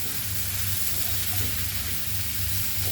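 Goan pork chilli fry cooking in a pan, a continuous, even sizzle and hiss of frying meat with a low bubbling rumble underneath, steady and unbroken.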